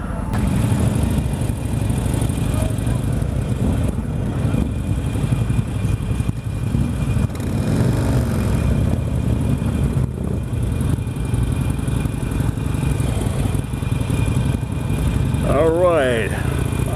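A Harley-Davidson Iron 883 motorcycle engine runs steadily on a demo ride, a continuous loud low rumble heard close up with people talking over it throughout.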